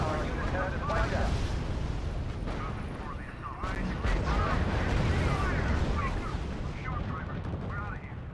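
Heavy artillery barrage in the strategy game R.U.S.E., a dense continuous rumble of booming shots and explosions with a voice talking over the battle.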